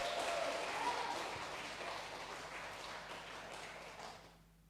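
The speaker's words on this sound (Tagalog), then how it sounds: "Pumalakpak ng malakas sa Panginoon." A church congregation at a healing service applauds, a dense wash of clapping that begins loud and slowly fades before stopping abruptly near the end.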